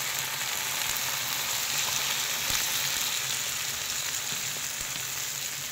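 Prawns frying in hot oil for a biryani, a loud, dense, continuous sizzle close up with no pauses, no talking, and only a few faint knocks beneath it.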